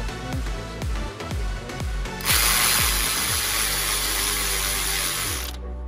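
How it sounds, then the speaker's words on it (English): A battery-powered ratchet on a Toyota Sienna 3.3L loosens the belt tensioner: a run of rapid clicking ratchet bursts up close, then a steady, loud motor whine holding for a few seconds before stopping. "I got this special ratchet over here that's battery operated, make the job a little faster"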